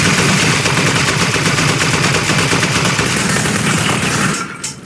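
Video game gunfire on Xbox 360 gives a dense, sustained burst of rapid shots, loud and continuous, then trails off abruptly near the end.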